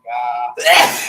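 A single sneeze close by, a sharp inhale followed by a loud burst, during a podcast conversation.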